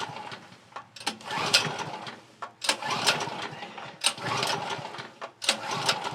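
A Champion portable generator's small engine is pulled over repeatedly, each sharp rattling burst followed by brief sputtering, close and fairly loud, with the engine catching and running unevenly in short surges.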